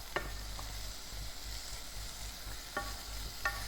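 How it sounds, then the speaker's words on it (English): Vegetables for leek and potato soup sizzle softly in a pan while a spoon stirs them, a quiet, steady fry broken by a few light scraping clicks. "add our veggies in. Okay, and you need to give that a stir"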